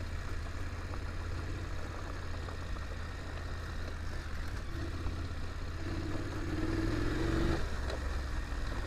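A BMW F850GS Adventure motorcycle engine runs steadily on an off-road trail, a continuous mid-pitched drone that swells slightly louder near the end, with no talking over it.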